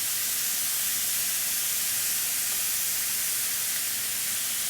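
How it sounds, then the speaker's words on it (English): Lamb sizzling on a very hot plate fresh from the oven, served out to restaurant patrons, gives a steady, loud, close hiss that holds evenly throughout with no talking. "Definitely can hear that sizzle happening."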